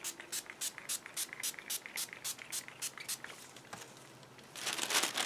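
Tissue paper crinkles in quick, regular bursts, a soft rhythmic rustling up close, ending in a louder flurry of crumpling.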